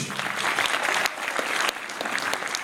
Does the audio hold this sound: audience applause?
yes